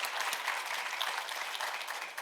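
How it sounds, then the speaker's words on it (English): An audience at a township trustees meeting gives a faint, brief round of applause, a soft even patter of clapping lasting a couple of seconds. "give them another round of applause"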